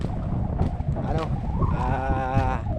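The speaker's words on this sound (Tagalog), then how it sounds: "Medyo mahangin nga lang mga idol." Heavy monsoon wind in San Andres, Quezon, buffets the microphone with a low, rumbling roar while a person talks over it.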